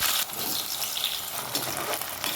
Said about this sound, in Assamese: প্ৰথমতে মই আলুখিনি অলপ ৰঙচুৱাকৈ ফ্ৰাই কৰি ল'ম।